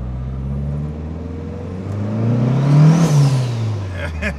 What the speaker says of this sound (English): Let's go and take a drive in this car.